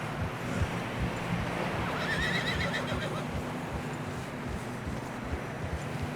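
A horse whinnies with a rising, wavering call in snowy terrain in the video game Red Dead Redemption 2, set over a steady bed of trudging hooves and wind-like rumble.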